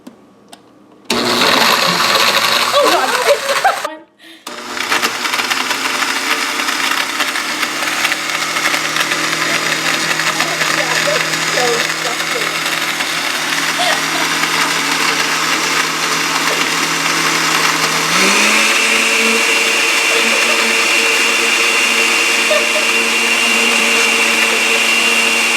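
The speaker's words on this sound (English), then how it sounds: "Hannah's going to add a half of cup of coconut water to our mixture so that it'll be able to blend much easier in the mixer." A countertop blender runs loud and steady on low, mixing coconut water into an energy chew mixture; the motor cuts out briefly near the start, restarts, and its pitch shifts partway through.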